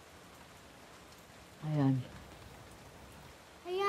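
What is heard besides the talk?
rain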